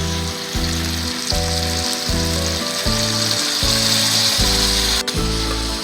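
Dark soy sauce sizzles and crackles steadily in a hot frying pan, loud and close, with a rhythmic low background pulse running underneath.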